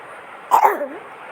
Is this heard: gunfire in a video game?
no